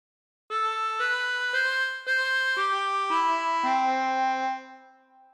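A harmonica plays a slow, clear phrase of the Star Spangled Banner: about eight sustained blown and drawn notes, each starting crisply, alone and up close, fading at the end.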